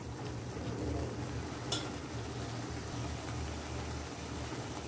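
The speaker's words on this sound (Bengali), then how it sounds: "নেড়ে চেড়ে ভালো করে একটু রান্না করে নিব" Tomato chutney cooking in a pan while being stirred, a low steady sizzle and soft scraping with one brief metallic clink partway through, close but fairly quiet.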